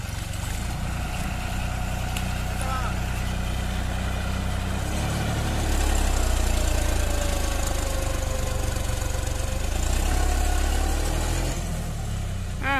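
A John Deere 5310 4WD tractor engine labours while driving through a river, a loud continuous diesel rumble and knock that swells slightly midway, close and steady throughout.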